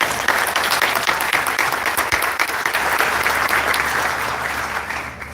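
Audience applause at an executive chat, a dense and continuous burst of clapping that holds steady throughout and eases off slightly at the end.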